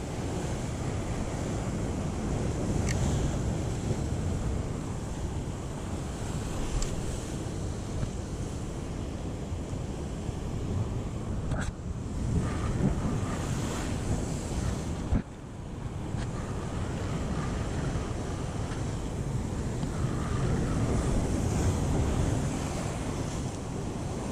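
Rough ocean on a wavy day while out fishing, with a constant roar of surf and heavy wind buffeting the microphone and a few louder gusts and splashes along the way.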